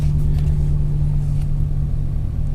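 A Dodge Ram truck engine idles steadily just after starting, a low continuous rumble with a constant hum, close and alone.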